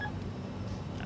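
Autopilot disconnect warning in a flight simulator on final approach to land, a brief electronic tone at the start over a steady low cockpit engine hum.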